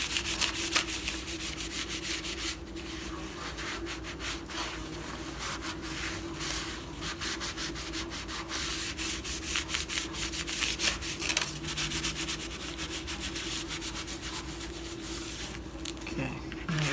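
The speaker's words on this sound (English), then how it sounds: "Pressing it down all the way to the edge" Glued paper pressed and rubbed flat onto a 6x9 pink junk journal, giving close, continuous scratchy rubbing and scuffing strokes that come in irregular bursts.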